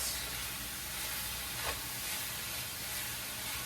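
Tomato paste sizzling as two heaping tablespoons are added to a pan, a soft steady frying hiss that stays quiet and even, with a slight stirring scrape partway through.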